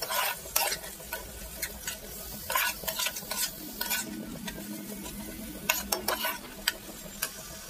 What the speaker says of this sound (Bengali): দিয়ে এটাও তেলের উপরে ভালোভাবে মশলাটা আমি কষিয়ে নেব।